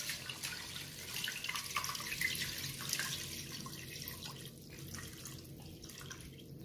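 Four glasses of water splash steadily into a pot of meat, garlic and onion, a continuous pouring hiss that eases slightly toward the end.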